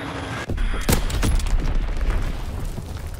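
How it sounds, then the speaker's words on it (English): A bomb explodes in a WWII video game battle at St Marie Du Mont, a loud close boom with sharp blasts and crackling gunfire-like bursts rumbling on for several seconds, no talk. "Enemy bomb incoming!"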